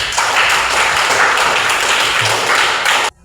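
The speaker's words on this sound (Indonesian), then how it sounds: "kita tepuk tangan untuk semua" A short burst of dense clapping from a classroom group, steady and fairly close, cutting off abruptly after about three seconds.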